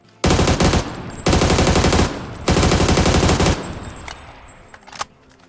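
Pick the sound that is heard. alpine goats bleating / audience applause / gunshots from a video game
gunshots from a video game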